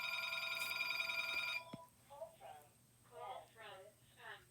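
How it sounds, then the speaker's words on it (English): A telephone rings with a bright electronic trill that cuts off abruptly partway through, followed by someone speaking in short phrases. "Sorry about that phone."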